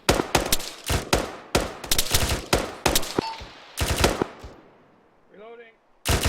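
Repeated bursts of automatic rifle and machine-gun fire during an Arma 3 squad assault, loud and close, coming in rapid clustered volleys with short gaps, then fading to quiet with a brief voice near the end.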